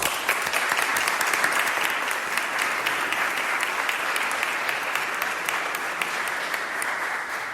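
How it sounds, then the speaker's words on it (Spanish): An audience at an evening conference claps in a sustained, even round of applause that holds steady and fades slightly toward the end. "le pido un fuerte aplauso a todos vosotros"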